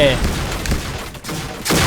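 M1014 shotgun fire in the online shooter Point Blank, loud booming gunshots in quick succession amid dense game battle noise, with a voice talking underneath.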